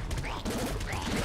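Plasma cannon bursts in Nuclear Throne, a dense, loud crackling fusillade of rapid energy shots with a brief gap midway.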